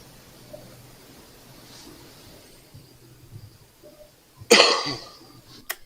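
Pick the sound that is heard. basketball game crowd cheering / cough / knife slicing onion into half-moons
cough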